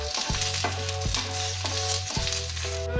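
Curry leaves and dried red chillies sizzle and crackle steadily in a little hot oil, with a few stirring scrapes, close and continuous with no talking.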